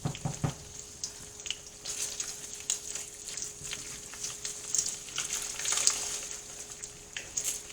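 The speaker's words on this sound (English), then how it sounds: "We're going to let these eggs, it almost looks as if they're frying." Eggs cook gently in a pan, giving a soft, continuous crackling sizzle with small pops. It stays fairly quiet, with a faint steady hum underneath and no talking.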